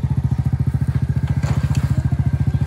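A motorcycle engine idles or putters close by, its steady rapid low thumping pulses running throughout, loud and even, with no talking.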